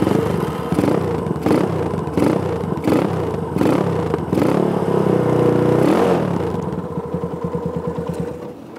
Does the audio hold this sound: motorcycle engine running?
yes